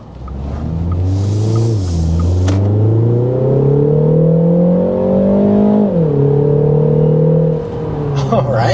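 A 2025 Mini Countryman S accelerates past 60 mph, its engine note climbing steadily through the gears with a brief dip at each shift, heard from inside the cabin while people talk over it.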